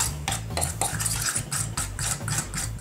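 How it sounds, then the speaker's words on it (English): A spoon stirs seasoned flour with salt and pepper in a bowl, giving rapid, rhythmic scraping and clinking strokes, close and steady for a few seconds, with no talk. "Now we're going to give that a decent seasoning of salt and pepper. And just give it a quick stir through."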